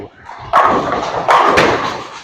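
A Storm !Q78-U bowling ball drops onto the lane on a warm-up shot, two heavy thuds close together followed by a rolling rumble, loud and near with no talk over it.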